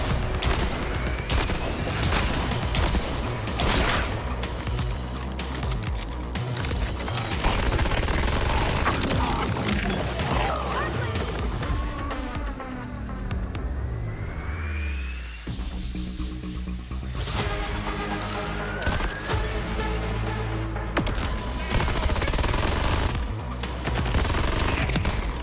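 Dense, sustained video-game gunfire from Borderlands 4, rapid overlapping shots and bursts with mechanical clatter, loud and continuous throughout with a brief dip midway.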